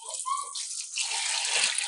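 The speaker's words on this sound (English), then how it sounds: "you're going to want to cover them with filtered water, just enough to cover the top of the beans." Filtered water is poured into an Instant Pot over soybeans, a steady rushing splash that runs for about two seconds, close and fairly loud with no talking.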